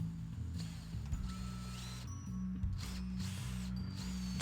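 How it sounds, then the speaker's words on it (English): A power drill with a 10mm bit bores holes through a model railway lift gate board for track feed wires. The motor whines steadily and close, its pitch dipping and rising as the bit bites through several short drilling bursts. "So I'll be using a 10mm drill bit for this."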